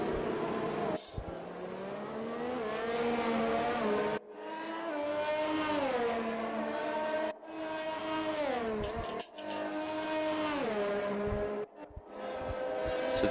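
Race cars on a formation lap in a Formula-style racing game at the Azerbaijan GP, engines screaming and revving through repeated gear shifts, each rising pitch cut off by a brief drop, loud and close.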